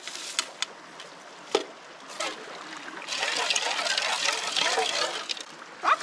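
Dishes are washed with cold water at a campsite, running water trickling and splashing close by with a few sharp clinks, growing steadier and louder midway.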